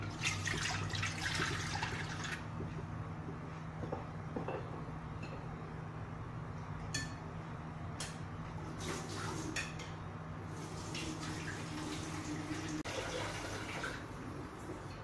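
Water poured while cooking a coconut-milk dish of dried tofu skin and vermicelli, a steady splashing and trickling into a pot with occasional clinks of cookware, continuous and close throughout.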